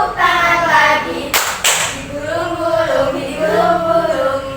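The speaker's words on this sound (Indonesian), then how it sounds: "tepuk tangan lagi" Two sharp hand claps land close together during a children's action song, with a voice singing before and after them.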